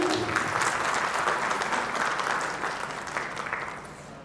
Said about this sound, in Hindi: एक बार जोरदार तालियों के साथ इनका स्वागत करेंगे।